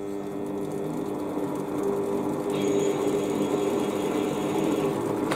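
A Warco metal lathe runs forward while taking a cut fed with the compound slide, giving a steady close mechanical hum and whine that shifts slightly partway through, with no talk.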